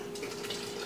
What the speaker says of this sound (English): I'm gonna pour it in here.